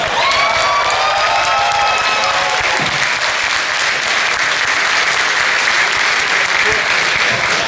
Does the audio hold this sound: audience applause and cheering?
yes